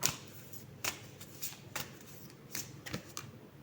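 Tarot cards are shuffled by hand in a quiet room, giving a series of soft, quick riffling bursts at an irregular pace, close and faint, with no talking.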